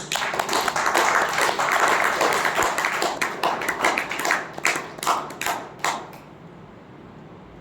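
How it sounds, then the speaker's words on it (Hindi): An audience claps together in a dense burst of applause that thins into scattered individual claps and dies away after about six seconds, with no voices over it. "अगर आपको लगता है ये सही है तो आप तालियां बजाइए।"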